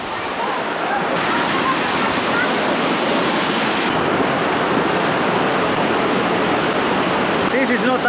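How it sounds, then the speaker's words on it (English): Loud, steady rush of river water flowing continuously close by while a carpet is washed in the river, a dense broadband roar with no pauses. "This is not an easy thing to do, to wash a carpet in the river."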